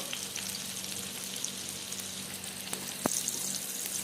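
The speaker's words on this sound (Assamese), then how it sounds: "এয়া মই পিঁয়াজখিনি তেলত দি লৈছোঁ। দি 1 মিনিটমান লৰাই লৈছোঁ।" Onions frying in oil for a fish curry with poppy seeds, giving off a dense, even hiss of sizzling close by, with one brief clink of a utensil as they are stirred.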